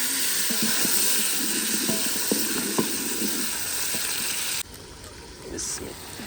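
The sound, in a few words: frying tadka with tomato, ginger and green chilli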